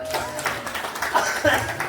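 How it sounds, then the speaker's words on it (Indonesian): Audience applause at an Indonesian Independence Day (80th anniversary) reception in a village hall, a dense wash of clapping lasting about two seconds with voices mixed in. "Tepuk tangan."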